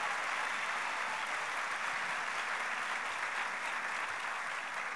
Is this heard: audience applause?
yes